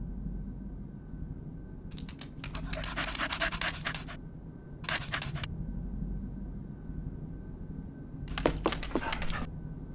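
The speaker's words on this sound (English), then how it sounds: "Hello, little doggy. Who's a good boy? Come here." A dog pants in the video game Murder in the Alps, a steady quick huffing breath running through the whole stretch over a low ambient game background.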